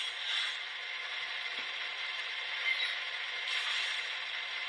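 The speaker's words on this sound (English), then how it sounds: "F3 is coupler crash." Coupler crash sound effect from an ESU LokSound decoder in a Walthers E9 HO model locomotive: a sustained metallic, grinding mechanical rattle that stays steady and moderately loud throughout, with no voices.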